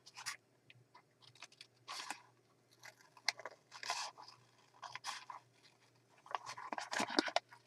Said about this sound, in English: So now I'm just going to cut this.